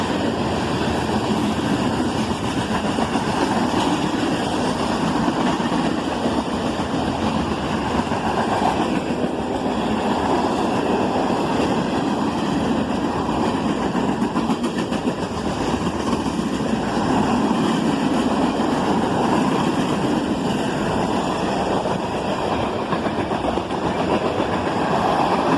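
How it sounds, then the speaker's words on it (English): A long freight manifest train hauling steel slabs and coils rolls past, a continuous loud rumble and rattle of railcars on track, steady throughout with no voices. "This manifest train started off with steel slabs and coils"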